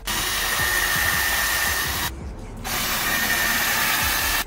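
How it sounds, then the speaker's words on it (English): A steady, loud power drill whine runs continuously while driving screws into a wooden 2x3, dropping out briefly for about half a second before resuming at full strength. "So let's start drilling."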